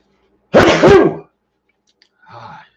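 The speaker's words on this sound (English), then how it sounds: "Gotta love a good sneeze." A single loud, sharp sneeze bursts out close by, followed after a pause by a faint sniff or short breath.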